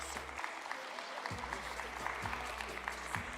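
A live audience at a children's storytelling show gives a steady round of applause, moderately loud and sustained throughout.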